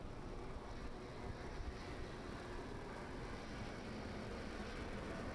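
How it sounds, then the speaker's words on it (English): A Sea King naval anti-submarine helicopter maneuvers into position over the sea during a navy operational demonstration, its steady rotor and engine roar filling the air continuously at a fairly loud, even level with no talk. "the helicopter is taking position to lower her sonar, known as dunk."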